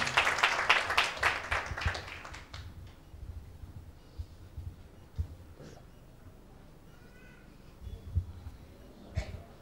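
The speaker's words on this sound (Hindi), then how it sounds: "एक जोरदार ताली देंगे परमेश्वर के नाम की महिमा के लिए" A church congregation applauds for a couple of seconds, with dense clapping that fades quickly into quiet room noise broken by a few scattered thumps.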